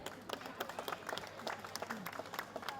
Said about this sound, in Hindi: तो मदन लाल जी की एक बार जोरदार तालियां मेरे लिए।